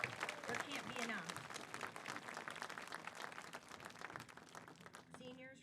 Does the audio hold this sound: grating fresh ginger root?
no